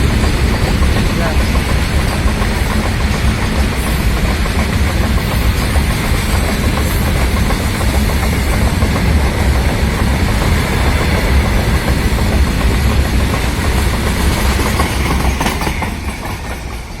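A train rumbles past quickly on the line between Hubli and Mugad, steady and loud for a long stretch, a dense roar of wheels and rattling cars that fades slightly at the end.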